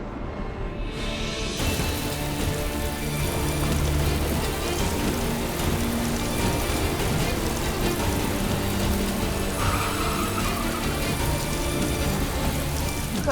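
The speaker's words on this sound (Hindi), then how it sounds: "ओले पड़ने शुरू हो गए हैं और आगे कुछ दिखाई नहीं दे रहा है" Heavy hail and rain pound steadily on a stopped car, a dense, loud, continuous patter that runs unbroken for the whole stretch with no talking.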